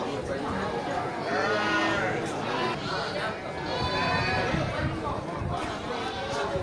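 Kacang goats bleat in wavering cries at the Grogol livestock market, several calls rising over a dense crowd murmur while people talk nearby.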